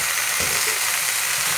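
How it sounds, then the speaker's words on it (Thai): Bitter melon and pickled mustard greens stir-fried in a pan, a steady close sizzle with faint scraping of the stirring utensil, no talk. "ผัดไปเรื่อยๆเลยนะคะ"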